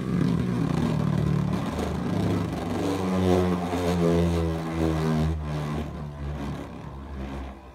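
Beyblade Burst Pro Series Prime Apocalypse spinning top launched and spinning: a steady, close whirring drone with tonal harmonics that wavers and slowly fades over several seconds, with no talking.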